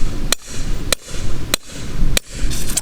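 A hammer strikes a socket set on a jack to drive out a Jeep front axle U-joint, four hard metallic blows at about even half-second spacing, loud and close, with a fifth lighter tap at the end.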